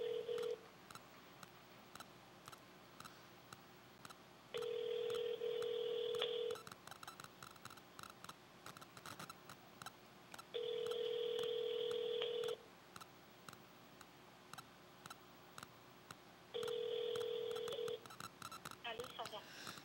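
Three evenly spaced bursts of a steady electronic telephone tone, each about two seconds long, over a quiet background with faint voices.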